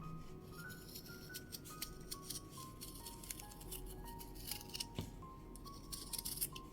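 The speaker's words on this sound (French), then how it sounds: "Et je vais couper." Scissors snip through fabric being cut for a sewn phone pouch, a steady run of close, crisp cutting sounds with small clinks, no talking.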